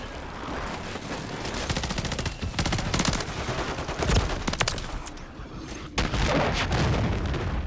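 A BP50 assault rifle fires in Modern Warfare 3: dense, near automatic bursts crackle one after another, mixed with booming impacts and other gunfire around it, loud and nearly continuous.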